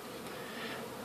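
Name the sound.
bee flying in the bedroom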